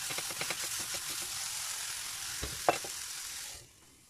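Eggplant fries in a little oil in a pan, giving a steady close hiss of sizzling with a couple of brief clicks before the sound suddenly drops away near the end.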